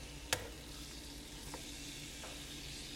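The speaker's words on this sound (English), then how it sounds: "We're just going to saute the chicken breast" Chicken breast sautéing in oil in a pot for chicken noodle soup, a steady close sizzle with a few brief sharp pops or clinks partway through.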